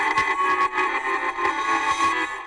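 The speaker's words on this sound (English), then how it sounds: "It was the sound of a piano." A piano processed with effect plugins produces a dense, smeared wash of struck notes with repeated attacks and echo-like tails, fairly loud and steady until it cuts off.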